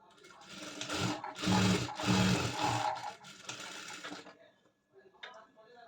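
A Jack sewing machine with a loop fault stitches fabric in a few short, close runs of rough mechanical whirring, then stops. Quieter handling sounds follow.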